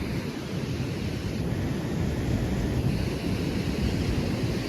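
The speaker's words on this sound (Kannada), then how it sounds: "ಫುಲ್ ಅಲೆಗಳು ಸೌಂಡ್, ಫುಲ್ ದೊಡ್ಡ ಅಲೆಗಳು ಅವ" Ocean surf at Surathkal beach gives off a constant, loud, broad roar of breaking waves. Wind buffets the microphone, and no one speaks.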